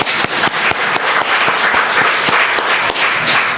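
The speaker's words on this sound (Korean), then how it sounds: "물질로 후원해 주신 분까지 박수를 치겠습니다." A church congregation claps for donors, loud and close, with sharp individual hand claps standing out over a thick, continuous bed of applause.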